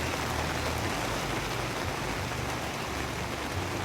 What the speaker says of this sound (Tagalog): Basta wala lang pong kasamang hangin yung ulan.